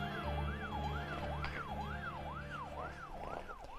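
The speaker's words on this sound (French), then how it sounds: "l'ambulance est là !" Ambulance siren sounding in a steady repeating wail, rising and falling about once every half second, fairly loud and close, with a low engine hum underneath and no talking.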